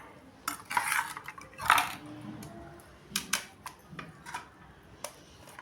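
A spoon clinks and scrapes against dishes while serving chicken curry, dosa and chutney, giving quiet, sporadic metallic taps and a couple of brighter clatters spread over several seconds.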